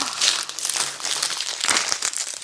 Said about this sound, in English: I'm not doing a very good job of avoiding crinkling with this one